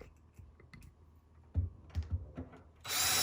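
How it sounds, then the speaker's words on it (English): A power drill drives screws into a lower drawer during installation, a short burst of close whirring that starts near the end after a few quiet clicks and taps. "and screw it down"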